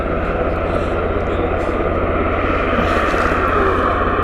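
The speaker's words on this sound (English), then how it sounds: "I think it's the helicopter we can hear." A steady, droning rotor-and-engine hum from a helicopter near Stansted Airport fills the background continuously, fairly close and constant in level, with no clear talk.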